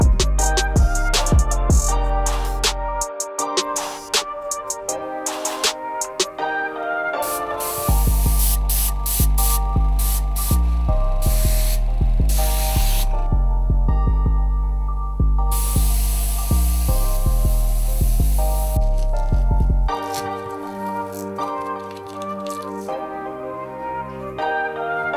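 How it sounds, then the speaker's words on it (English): An airbrush sprays black paint onto a custom Air Jordan 3 sneaker, giving several long, close hissing bursts with pauses between them, layered over steady background music. "we're gonna spray it with the airbrush black"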